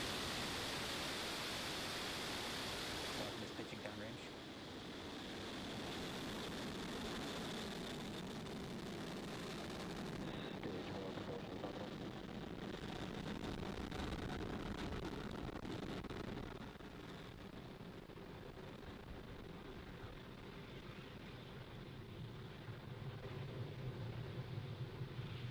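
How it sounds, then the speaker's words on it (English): SpaceX Falcon 9 rocket lifting off from Cape Canaveral Space Force Station on a Starlink mission, a broad continuous roaring rumble heard from a distance, strong at first and easing to a lower steady roar, with no talk. "Falcon 9 has successfully lifted off from Cape Canaveral Space Force Station"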